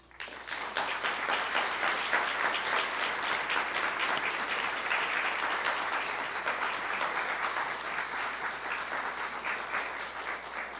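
Sustained applause from an audience at George Washington University welcoming HHS Secretary Burwell, dense even clapping starting abruptly and holding strong for about ten seconds before easing slightly.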